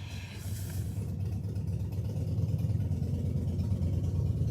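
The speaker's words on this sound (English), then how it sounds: "you can hear a fantastic motorbike out there blasting" A motorbike blasting somewhere outside, a steady low engine rumble that holds fairly loud and swells slightly toward the end, with no voices over it.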